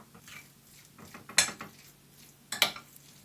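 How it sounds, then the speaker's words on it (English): Mashed potatoes mixed with salt and an egg in a bowl, quiet scraping broken by two sharp utensil clinks against the bowl, close and otherwise soft. "Add in some salt, 1 egg, mixed everything."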